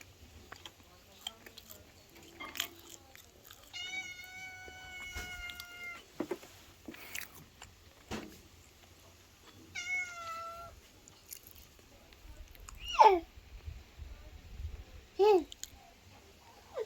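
A cat meows several times outdoors in the Jamaican countryside, with drawn-out calls spaced across a quiet morning, along with a few small clicks and a child's babbling.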